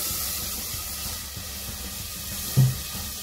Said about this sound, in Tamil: நம்ம இப்போ 1 கப் தண்ணி ஆட் பண்ணிக்கலாம்.